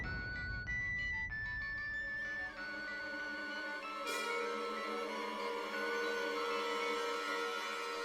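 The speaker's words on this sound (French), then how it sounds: "Un appel de Prashant sur le téléphone de papa." A phone rings with an incoming call in a French-dubbed Indian TV series: a melodic electronic ringtone plays bright tonal notes that shift in pitch, steady and fairly quiet, with no speech.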